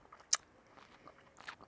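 Crispy cucumber chips, oven-dried for three hours at 90 Celsius and seasoned with vinegar, salt and pepper, bitten with one sharp crunch followed by softer, quiet chewing close by.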